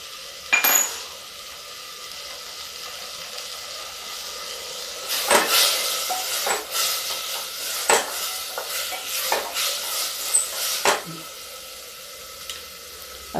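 Broken urad dal roasting in a pan for a zero-oil pumpkin sabji, with soft sizzling under repeated sharp scrapes and clinks of a spatula stirring against the metal, close and irregular.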